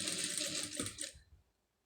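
A sewing machine runs in a brief, steady burst while stitching piping onto cloth, then stops abruptly, leaving near silence.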